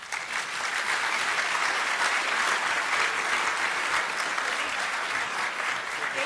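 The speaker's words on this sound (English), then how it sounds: "let's give him another round of applause" An audience at the SCAG Economic Summit 2016 applauds a former California governor, with loud, sustained, even clapping from a large room throughout and no break.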